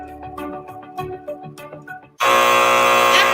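A game show buzzer blares suddenly, a loud, sustained harsh tone cutting in after a stretch of tonal, music-like sounds.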